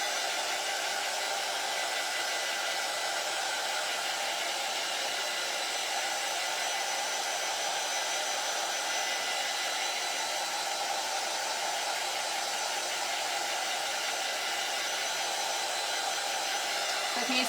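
A hair dryer blows steadily and loudly throughout while drying a hair-care project, a constant broadband whoosh with no pauses and no talk.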